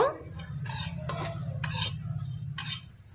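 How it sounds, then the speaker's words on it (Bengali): Whole cumin, coriander and fennel seeds fry in a pan while a spoon stirs them, giving a soft sizzle under several scraping strokes of the utensil against the metal, close up with no voices. "এবার নাড়াচাড়া করে মশলাটা ভেজে নেব"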